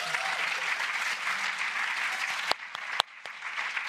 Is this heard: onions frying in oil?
no